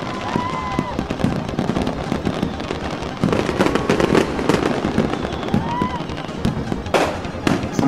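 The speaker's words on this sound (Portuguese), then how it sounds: "Essas bombas assim que explode" Fireworks burst over São Paulo during New Year celebrations, a dense run of crackling pops and booms with whistling rockets, some near and some distant, continuing throughout with a voice partly audible in the background.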